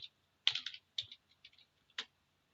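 Typing on a computer keyboard while entering a month into a Microsoft Word document: a few short, close bursts of key clicks with brief pauses between them, fairly quiet and with no talk.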